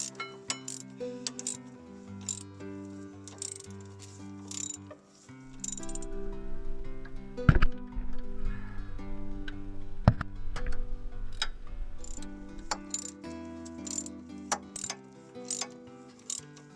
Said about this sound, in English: I simply tighten them with a large ratchet